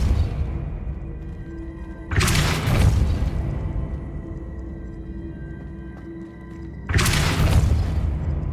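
Two forceful Depulso spell blasts in Hogwarts Legacy, each a sudden booming burst with a whooshing, crackling tail that decays over a second or so, separated by a quieter stretch of game ambience.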